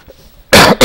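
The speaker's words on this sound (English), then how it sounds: "Sorry about all the coughing." Two loud, harsh coughs burst out in quick succession after a quiet stretch, close to the microphone and alone without talk.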